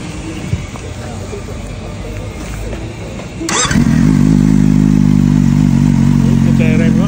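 A motorcycle with a four-outlet exhaust and digital dashboard starts up partway through, shifting from a low background rumble to a loud, steady close idle that runs to the end.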